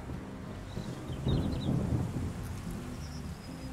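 Rolling thunder and steady rain from a storm in the 7 Days to Die video game, a low rumble that swells in the middle and eases off under a constant rain hiss, with faint high chirps and no speech.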